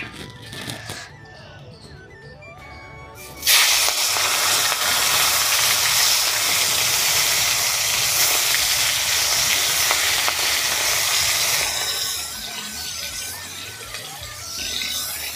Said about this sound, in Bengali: মাছটা এখন আমি ভেজে নিচ্ছি।